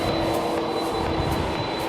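A steady airplane engine roar holds at a constant level, fairly loud and nearby, with a high whine running above the broadband rumble.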